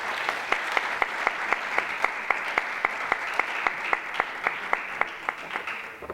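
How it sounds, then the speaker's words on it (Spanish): Steady, evenly spaced claps at a talk on women's football, sounding like a small group's rhythmic applause or a single close clapper, continuing for several seconds without voices. "Un aplauso, por favor"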